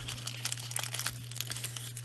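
Scissors snip a small piece of green shimmer nail art foil close up, producing faint crinkling and crisp snipping ticks over a steady low electrical hum.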